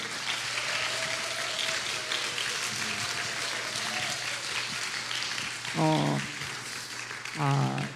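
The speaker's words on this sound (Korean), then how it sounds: "큰 박수로" Sustained applause from a church congregation fills the space evenly, with faint voices and a few brief vocal exclamations rising near the end.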